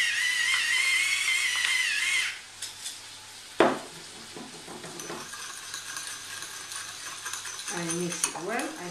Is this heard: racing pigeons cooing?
no